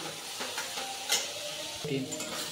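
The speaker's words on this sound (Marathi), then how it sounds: "थोड्या वेळ गॅसवर आपण कोबी शिजवून देऊ" Cabbage with turmeric and chili cooks on a gas stove, giving a soft, continuous sizzle with a few scraping stirs and light metallic knocks against the pan, no talking.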